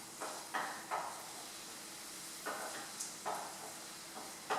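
Onions sizzle softly in a pan, a low steady frying hiss broken by several sharp clicks and taps of a utensil against the pan at irregular intervals, close by and with no talk.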